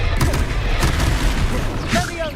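Fiery Confringo spell blast in the Hogwarts Legacy video game: loud booming explosions and bursts fill the clip over dense battle noise, with a voice calling out amid the combat.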